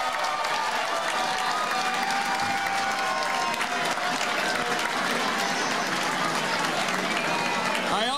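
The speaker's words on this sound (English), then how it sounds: "Let's give them a round of applause." A large crowd at a governor-elect's victory speech gives sustained, dense applause, steady and loud throughout with a faint cheer mixed in.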